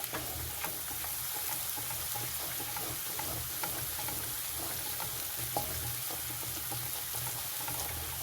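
Steady sizzling and crackling of garlic and ginger frying in a hot pan, continuous and close, with occasional light clinks of stirring.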